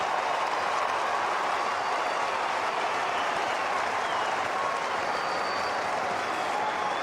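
A roaring stadium crowd at an Australian football match between the Kangaroos and Adelaide cheers a goal kicked at the Punt Road end, a broad, sustained wash of noise heard from a distance with no commentary over it.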